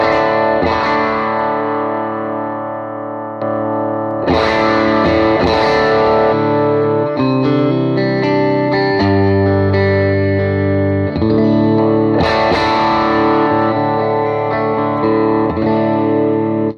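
Clean electric guitar on the bridge pickup through Quad Cortex amp captures, strumming ringing chords in several phrases with some single-note movement between them, bright and close with a touch of ambience and no talking.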